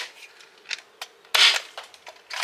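Adventure Force Deuce Pro toy dart blaster fitted with a muzzle brake, firing a few sharp, bright pops close by, one louder burst standing out among lighter clicks.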